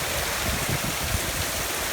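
Very heavy rain with hail pours down in a severe thunderstorm with gusty winds, a loud, steady, dense roar of water and impacts that fills the whole short stretch without a break.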